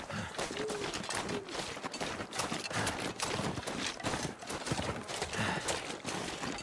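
Hooves of a deer running in the video game The Long Dark thud in a quick, steady rhythm, fairly faint and continuous.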